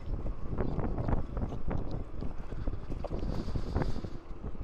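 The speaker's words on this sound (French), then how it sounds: "le vent il commence à se lever" Steady wind buffets the microphone with a low, constant rumble and roar during an electric mountain bike ride outdoors, with no clear voices.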